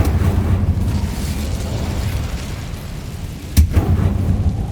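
Incendio, a fire spell in Hogwarts Legacy: one sharp burst of flame cracks out late over a continuous rumbling game ambience, then a low roar persists afterward.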